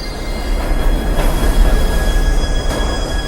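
A New York subway train at a station platform, with a loud, steady rumble of wheels on rail and high squealing tones running through it, close by and continuous, with no voices.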